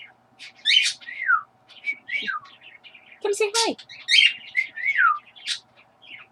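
Small birds chirp and whistle in quick, bright bursts nearly nonstop, with a person speaking briefly partway through.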